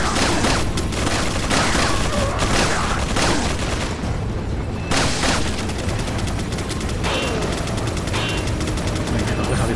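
Rapid gunfire bursts in the video game Resident Evil 4, dense repeated shots and booms overlapping loudly for most of the stretch with a brief lull midway.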